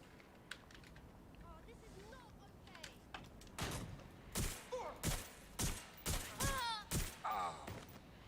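Bursts of gunfire from a shooting video game crack out in a rapid volley in the second half, loud and close, after quieter clicks and sparse game sounds.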